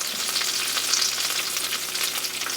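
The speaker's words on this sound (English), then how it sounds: "I'm gonna finish frying up this batch" Thin pork chops frying in hot grease, a constant bright crackling sizzle with popping bits, steady and close, no voices.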